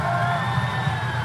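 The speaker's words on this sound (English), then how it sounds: "Please give them a round of applause, please." A crowd at a bodybuilding event cheers and whoops, close and dense, in a brief sustained burst with shrill voices rising above the din.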